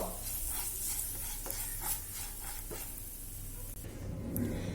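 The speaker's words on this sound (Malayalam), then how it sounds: "ഇപ്പൊ ഷുഗർ ചെറുതായിട്ടൊന്ന് കാരമലൈസ് ആയിട്ട് വരുന്നുണ്ട്" Sugar caramelizing in a pan with no water added, stirred steadily with a scraping utensil over a soft continuous sizzle, close and moderately loud with no talking.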